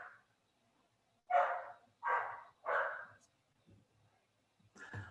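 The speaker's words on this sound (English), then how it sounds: "Oh, and apparently I have a dog barking." Dog barking indoors: a quick run of three loud barks, then a pause with faint sounds and one more bark at the end, moderately close over a quiet background.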